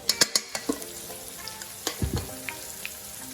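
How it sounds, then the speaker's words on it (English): Ribeye steak sizzling in a frying pan after being flipped, a quiet crackling fry with a few sharp clicks of utensils against the pan at the start and a soft thump midway. "so you could basically fry it for like 2 minutes on each side, and then you keep flipping"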